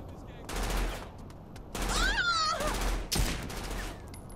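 Gunfire in the Saints Row 4 video game: loud bursts of automatic shooting arrive in two long volleys, joined by a whooshing, warbling effect and a sharp crack near the end.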